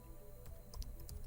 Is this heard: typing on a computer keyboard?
yes